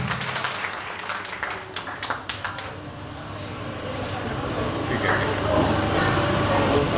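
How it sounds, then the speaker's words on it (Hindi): A crowd applauds to welcome a singer at a Vishwa Hindu Parishad gathering, a burst of scattered, uneven claps that thins out and gives way to a noisy, reverberant hall with a voice. "तेज तालियों से इनका स्वागत करेंगे हम लोग।"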